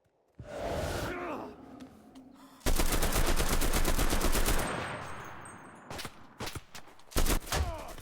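Bursts of automatic gunfire in the video game CRSED, loud and dense through the middle, then broken into short sharp volleys near the end, with a faint whoosh and breathing early on.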